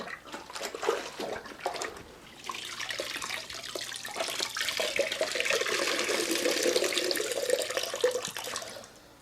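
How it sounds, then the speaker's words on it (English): A mop rinsed in water with pine floor cleaner, a close splashing and sloshing that builds into a steady watery churn for several seconds, with no talk. "Kind of rinse out the mop a little"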